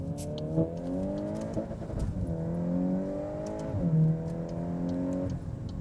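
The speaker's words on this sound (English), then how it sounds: "See how it hit the rev limiter there?" Volkswagen Golf R engine revving hard in repeated rising bursts, the note climbing and cutting off sharply as it hits the rev limiter, loud and close with no talking.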